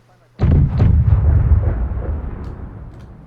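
Cannon fire in a naval battle video game: a sudden heavy boom with a second shot close behind, then a long rumbling decay that fades over about three seconds.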